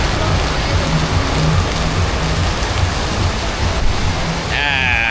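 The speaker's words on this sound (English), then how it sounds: "Flipping heck, that's a lot of rain." Heavy rain pours down on a street in Vietnam, a loud, dense, steady roar with a low rumble beneath and a brief higher whine near the end.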